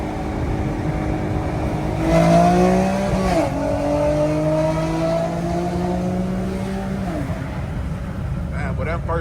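An Infiniti G37 fitted with long tube headers pulls hard from a rolling start, the engine note climbing steadily through the gears with a brief shift dip, loud and sustained from inside the cabin.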